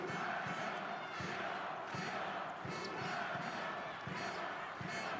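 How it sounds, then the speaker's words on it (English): Hungarian fans at a Hungary–Spain match make a loud, continuous crowd roar with rhythmic surging chants, heard from a distance as a dense, reverberant wall of sound. "just listen to the fans cheering on the team"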